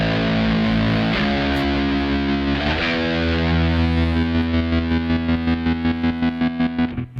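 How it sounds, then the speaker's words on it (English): Distorted bass guitar through a Kemper Profiler with a slicer effect, sustained notes that break into rapid rhythmic chopping pulses in the second half, loud and alone. "it's the slicer sound comes too late"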